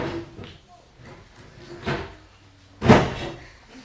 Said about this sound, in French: C'est la porte du frigo.